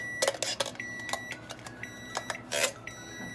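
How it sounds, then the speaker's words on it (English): Several short electronic beeps from an oven sound in an uneven series, faint and indoors, with a few sharper clicks between them. "the one that is beeping is the oven"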